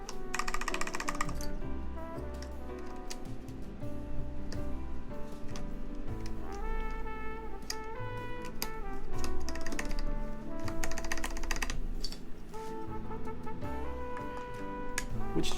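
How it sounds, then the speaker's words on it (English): Keycaps click and tap onto a Keycult No.2 mechanical keyboard in a steady scatter of small plastic snaps, close and fairly quiet, with no talking. "let us put the rest of the keycaps on"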